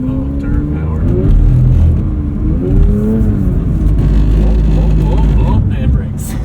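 A Porsche 911 sports car accelerates hard on a downhill circuit at the Porsche Experience Center Atlanta, with a loud, steady engine roar and rising pitch running throughout while a driver and passenger talk over it.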